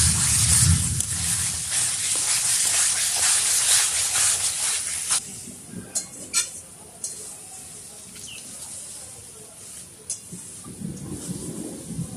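Minced meat tipped into a pan of browned spiced masala, giving a broad sizzling hiss that is loud at first, then drops to quieter crackles and short clinks of stirring, with no talk.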